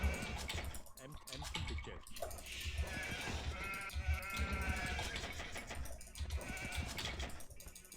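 Sheep bleat repeatedly in Age of Empires II over continuous background music and clicking, with a voice talking faintly underneath.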